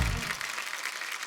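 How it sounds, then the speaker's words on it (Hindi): Studio audience applause for Vicky on a comedy talk show stage, a dense wash of clapping that is loud at first and then holds steady for a brief moment, with no voices over it. "एक बार जोरदार तालियां विकी पाजी के लिए हो जाए"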